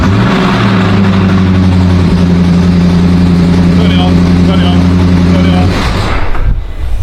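Range Rover SVR engine fired up for the first time after a rebuild, a steady loud idle with strong low harmonic drone running about six seconds, then cutting off abruptly into quiet.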